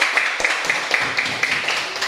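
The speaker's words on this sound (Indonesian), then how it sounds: "Silakan berikan tepuk tangan" Classroom students clapping for a student group that has just presented its work, a steady patter of small-group applause with a few sharper claps standing out at an even pace throughout.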